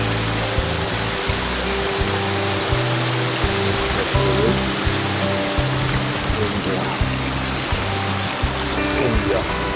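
Glacier meltwater stream rushes toward the Pindari River, a loud, steady broadband roar of flowing water close by, with low rumbling surges underneath and no clear talk.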